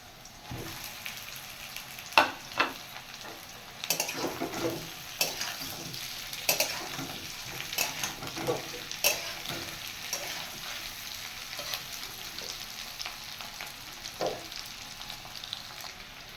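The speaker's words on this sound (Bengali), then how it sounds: "এবার আমি ভেজে রাখা আলুগুলো দিয়ে দেব।" Fried potatoes are stirred in a pan with cooked onions, giving a soft continuous sizzle broken by scraping clatters of the spoon against the pan, fairly faint and without talk.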